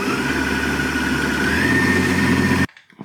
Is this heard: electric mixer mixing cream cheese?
yes